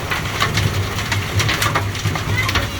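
Hailstones striking a car during a hail storm in Neepawa, a loud, dense clatter of irregular hard knocks and cracks on metal and glass, with rain-like hiss beneath.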